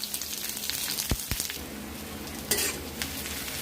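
Onion added to a pan with small onions, curry leaves and a dried chili, frying with a low steady sizzle and a couple of brief clinks of a utensil, quiet and free of talk.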